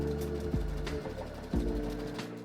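Sewing machine running a decorative stitch along quilt binding, a steady close mechanical whir with rhythmic needle pulses and short speed changes, heard alone without talk.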